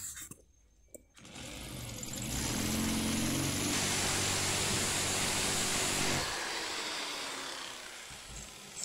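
A power drill works on a rusted bolt at close range, its motor rising to a sustained strained drone for several seconds before winding down.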